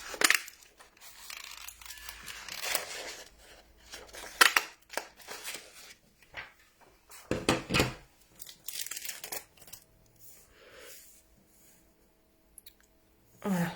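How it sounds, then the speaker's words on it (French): Scissors snip through vellum paper while two large hearts are cut out for a card-making craft, giving irregular bursts of crisp cuts and papery crinkles, close up, with quiet pauses between them. "je viens couper deux grands cœurs"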